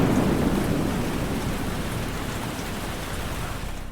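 A heavy thunderstorm pours steady, dense rain with a low thunder rumble swelling at the start, a continuous near hiss with no voices.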